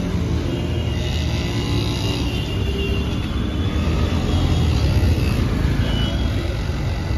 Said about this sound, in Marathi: पूर्ण ट्रॅफिक आहे भाई, पूर्ण तिथपर्यंत ट्रॅफिक आहे, तिथपर्यंत.